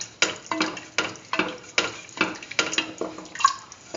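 Vermicelli pasta and sugar being sautéed and stirred in a pan: a steady sizzle broken by repeated scraping strokes at a regular rhythm, close and fairly loud, with no talking.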